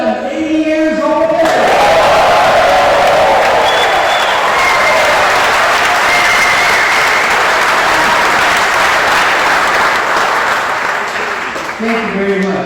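Loud, sustained applause from a live audience at a question-and-answer event fills the space for about ten seconds, a dense wash of clapping with a brief voice heard at the start and end.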